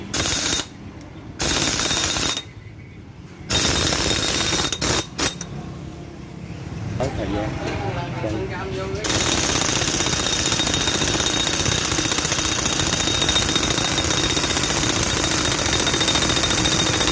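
Impact wrench tightening the 32 mm steering head nut on a motorcycle during a steering bearing cup replacement, heard as loud bursts of rattling hammering, two short ones early, then a long sustained run that continues to the end.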